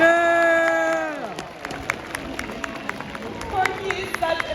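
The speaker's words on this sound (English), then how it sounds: "Let's give her a big round of applause, everyone." An audience at a SeaWorld orca encounter applauds and cheers for the 59-year-old orca Corky on her birthday, scattered sharp claps and crowd noise following a voice, with clapping continuing loudly and irregularly to the end.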